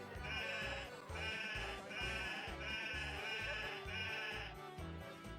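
A goat in the Sega Saturn game Princess Crown bleats loudly and repeatedly in steady pulses over a continuous musical backdrop, close and prominent throughout.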